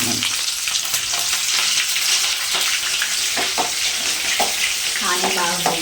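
Onions frying in a pan at a hotel kitchen, a steady loud sizzle throughout with occasional scraping and stirring clinks, no voices.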